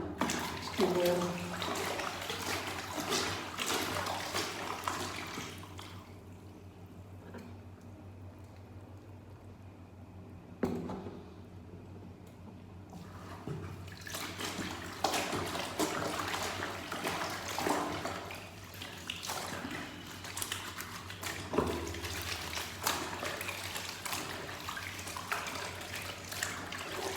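Small garments being washed by hand in a tub of water, with repeated sloshing and wet squishing of rubbed fabric, a quieter stretch in the middle, then renewed splashing at close range.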